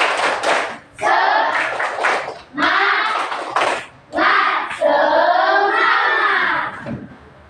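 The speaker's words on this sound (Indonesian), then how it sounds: "ada baiknya kita melakukan tepuk semangat" A school class does a rhythmic spirit clap in a classroom, bursts of group clapping in a patterned rhythm mixed with children's voices calling out along with the beat, loud and close.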